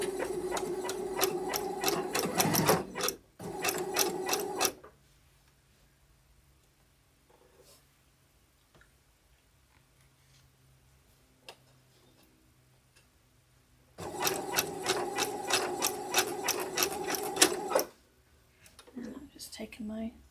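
A sewing machine runs a zigzag stitch on a small beanbag for a ball-jointed doll, two bursts of rapid, rhythmic mechanical clatter a few seconds long, separated by a quiet pause with faint handling sounds.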